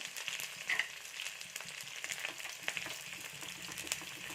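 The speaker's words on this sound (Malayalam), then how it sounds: "ഞാൻ ഇതുപോലെ കനം കുറഞ്ഞരിഞ്ഞ ചുമന്നുള്ളി ഇട്ട് കൊടുക്കുകയാണ്." Thinly sliced shallots and curry leaves fry in a pan with a continuous hissing sizzle, soft and even, with small crackles and no voices.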